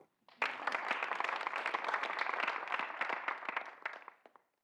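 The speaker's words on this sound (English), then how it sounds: "Let's pause for applause for that." Applause from an audience at a pickleball club expansion announcement, a dense burst of clapping that starts sharply, holds steady for about four seconds, then tapers off.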